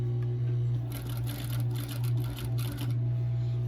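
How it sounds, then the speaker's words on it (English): Sewing machine stitching down the pleats of a fabric face mask, with a steady motor hum and rapid needle clatter in short bursts close by, no talking. "I'm going to lift and turn and sew these pleats down"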